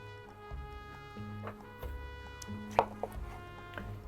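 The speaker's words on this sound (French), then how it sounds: "on va les tailler, tailler grossièrement quand même un petit peu." A knife roughly chops tomatoes for polpette on a board, a few soft close thuds scattered over a steady low hum in a kitchen, no talk.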